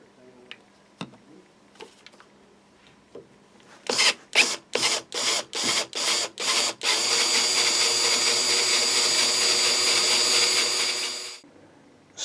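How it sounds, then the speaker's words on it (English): An electric drill bores out a seized slotted set screw on a Burns Nu Sonic guitar's control knob: several short loud bursts in a row, then one sustained high-pitched grind lasting about five seconds, close by. "we're going to have to drill it out and then put in a new set screw."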